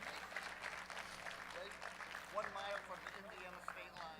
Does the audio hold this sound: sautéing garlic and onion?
no